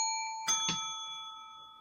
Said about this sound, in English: Hit your bell